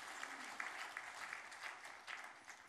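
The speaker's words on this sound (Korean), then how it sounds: "큰 박수 한 번 해주시기 바랍니다" Church congregation applauding during a Sunday service, a steady wash of clapping from a crowd in a sanctuary, fairly faint and continuous throughout.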